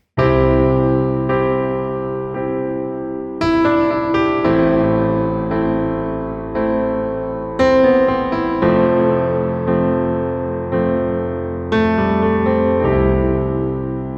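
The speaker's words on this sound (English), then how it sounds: "Let me play a chord progression for you" Sustained piano chords ring out one after another in a slow progression, each new chord struck firmly and left to sustain before the next.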